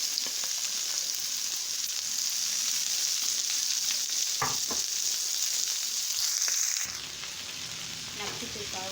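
Sliced hot dogs frying in a pan for a Haitian plantain and egg dish give off a steady, close sizzle with a few soft utensil scrapes; the sizzle drops in level near the end.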